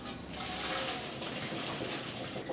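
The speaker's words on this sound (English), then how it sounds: "So drain that pasta." Cooked pasta being drained, with its water poured off in a steady, loud rushing splash that lasts a couple of seconds before easing at the end.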